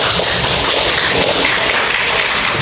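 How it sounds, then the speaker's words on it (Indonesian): Applause from a room of students at a school counseling session, a steady dense wash of clapping that holds evenly for a few seconds with no talk over it. "Kasih tepuk tangan semuanya."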